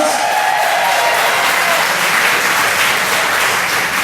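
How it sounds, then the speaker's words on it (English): An audience at a comedy show applauds loudly and steadily, a dense sustained wash of clapping that runs for several seconds without a break. "Give him a big round of applause."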